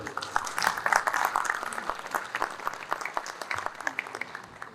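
Applause from an audience at a political rally's opening speeches, welcoming the organizing committee's speaker to the podium; steady dense clapping throughout, moderately loud and alone without talk.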